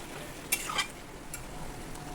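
Chicken pieces frying with chili powder are stirred in a pan, giving a few faint utensil clinks and scrapes over a low, quiet sizzle.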